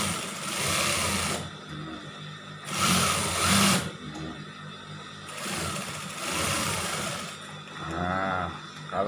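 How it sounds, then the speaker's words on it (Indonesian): A sewing machine topstitches a seam on a women's scout uniform in bursts of rapid whirring stitching, close up, starting and stopping several times with short quiet gaps between runs. "Nah, sekarang kita tindas sedikit aja, tindas jahitan."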